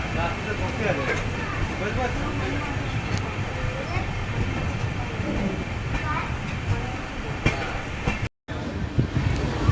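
A train pulls into Bhoke railway station, rumbling and clattering steadily beneath voices talking nearby, with a brief dropout near the end.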